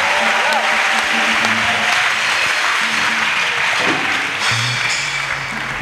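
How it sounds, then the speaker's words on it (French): Loud, dense applause and acclaim from a church congregation during French-English preaching, sustained and steady throughout, with a voice and some tonal sound faintly beneath the clapping. "Acclamation."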